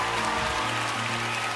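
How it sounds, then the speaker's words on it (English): A church congregation at a Sunday worship service applauds the pastor, a steady, dense wash of many hands clapping that stays even for a short stretch, with no clear voices on top. "give some hand clap of praise to the pastor of this church"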